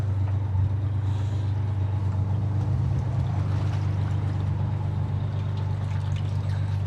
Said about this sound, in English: There's a boat coming in, ladies, so we'll be all right.